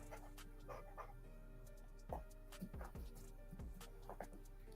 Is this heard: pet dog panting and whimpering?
yes